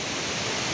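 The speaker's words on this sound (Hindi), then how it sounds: "और ये गिरता गिरता गिरता गिरता पानी देखिए" Tirathgarh waterfall in Jagdalpur, Chhattisgarh, India pours down as a dense, steady roar of falling water, loud and unbroken throughout.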